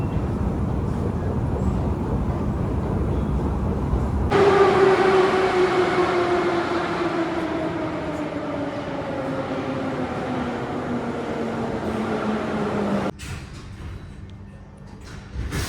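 A Moscow Metro train roars past up close, its steady rumble joined by a rising then falling whine as it accelerates, ending abruptly as the doors area quiets.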